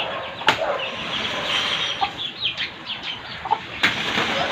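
Scattered soft clucks from a chicken over a busy outdoor background, with a few sharper bursts, moderately close.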